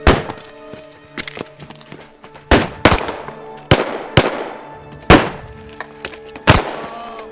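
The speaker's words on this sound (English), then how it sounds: "Open fire!" Gunfire erupts in a western shootout: about seven sharp, loud shots crack out at irregular intervals over a sustained orchestral score, with no voices.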